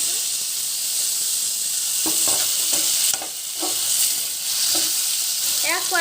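Tomato paste goes into a sizzling pan for paneer masala: a continuous hissing fry with several soft stirring scrapes spaced across the clip.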